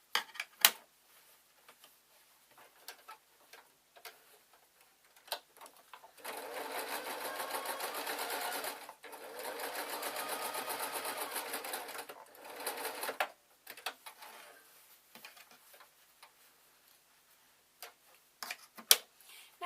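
A sewing machine hems upcycled denim jeans in two steady, fast stitching runs of about three seconds each, close and clear, with quiet clicks and handling sounds before and after.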